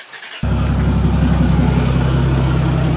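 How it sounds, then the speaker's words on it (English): A single-turbo Toyota Supra engine fires up after a quiet moment and settles into a steady, loud, deep idle that runs continuously and close by, with no one talking over it. "It's gonna be starting up very shortly, so you'll hear it in the background."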